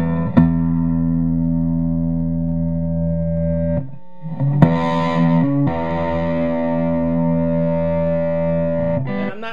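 A Marshall AVT 50 guitar amp rings out sustained distorted guitar chords with reverb, loud and steady, with one brief break and a sharp pluck before the tone resumes.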